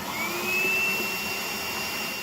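A carpet and upholstery vacuum cleaner powered from a Jackery 1000 portable power station runs with a steady, loud motor whine and airflow roar, a high tone sliding slightly upward as it spins up, with no talking.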